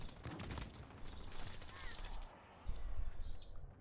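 Bursts of rapid gunfire ring out from Akimbo guns in an online shooter game, fairly quiet with several short volleys and a louder burst near the end.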